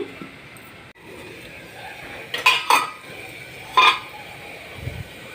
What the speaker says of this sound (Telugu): కలిపేసి మూత పెట్టుకుని మగ్గిస్తాను